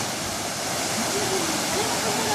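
Bolinao waterfall in Pangasinan roars in a steady, dense broadband rush of falling water, loud and constant throughout, with faint voices mixed under the flow.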